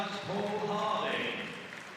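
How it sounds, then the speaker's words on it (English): Applause from the audience at the Crufts 2020 dog show during Utility Group judging, a steady broadband wash of many hands clapping in a large arena, fairly loud and continuous, slowly fading toward the end. "And a big round of applause for our judge, Paul Harding."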